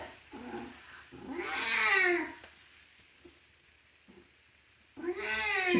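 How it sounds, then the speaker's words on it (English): A cat meows loudly behind a closed door, two long drawn-out wailing calls separated by a quiet pause, close and plaintive. "speaking of the cat."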